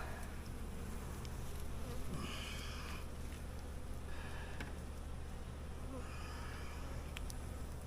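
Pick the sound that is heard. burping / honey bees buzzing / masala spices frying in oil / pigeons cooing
honey bees buzzing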